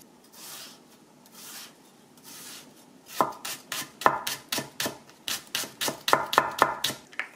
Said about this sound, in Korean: 파를 썰어 보겠습니다.